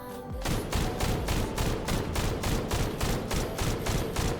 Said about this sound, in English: It turns the gun pretty much almost into automatic.